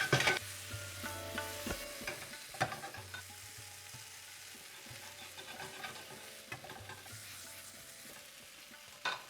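Potato pieces frying in a pan for aloo chaat, a quiet sizzle with sharp crackles and occasional stirring scrapes, close and soft with a low hum in the background.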